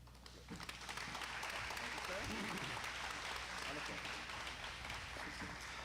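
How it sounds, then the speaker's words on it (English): Audience at a Leadership Military Academy ceremony breaks into sustained, dense applause for the executive director, rising quickly after a brief lull and holding steady and loud to the end. "let's give Executive Director, Mr. Campos, a big round of applause"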